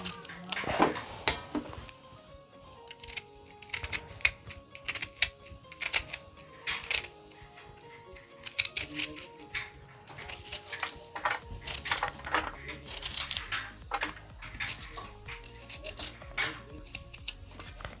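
Kitchen knife chopping onion into large, long pieces for Maggi noodles, a quick run of sharp, repeated taps on a cutting board at close range with some clatter, steady and mostly free of talk.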